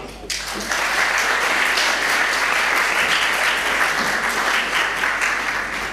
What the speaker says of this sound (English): Would you please give a big round of applause to Andrew Howdy?